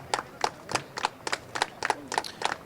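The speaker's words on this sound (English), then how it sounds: "A huge round of applause for Junior" Clapping after a Junior Rotax kart race final at Warden Law, a handful of sharp, evenly spaced claps from a small group, roughly three per second, fairly close with quiet gaps between.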